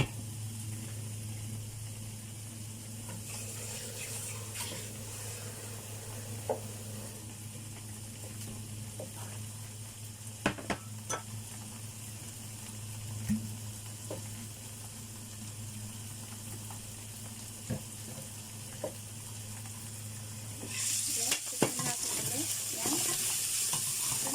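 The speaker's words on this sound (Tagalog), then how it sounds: "Ilalagay natin yung candle nut. Yan. Gisa-gisa lang natin saglit and cover again." Candle nuts are sautéed with pork adobo in a pan, producing a low, continuous sizzle with occasional stirring clicks and scrapes and a louder burst near the end.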